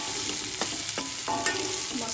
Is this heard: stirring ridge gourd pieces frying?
yes